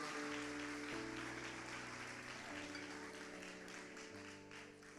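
A church congregation applauds during a sermon, a faint wash of clapping mixed under sustained music-like tones that continues evenly and fades slightly at the end.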